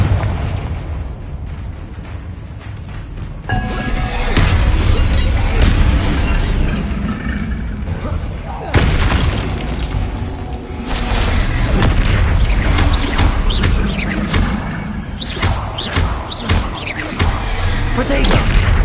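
Confringo spell blasts in the video game Hogwarts Legacy go off as loud, booming explosions one after another in a dense, continuous battle din, with no clear pauses.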